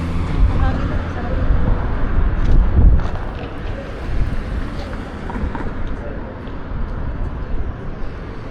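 Wind gusting outdoors on a downtown Denver street, a steady broad rumble of buffeting air against the microphone that swells around the third second, with faint city background beneath.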